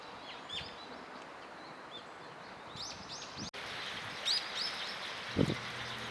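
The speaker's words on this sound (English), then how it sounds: "This is a brown-eared bulbul." Brown-eared bulbul calling in a south Hokkaido neighbourhood in late March, a few loud, shrill calls rising over quiet outdoor background with other faint chirps and a brief thump near the end.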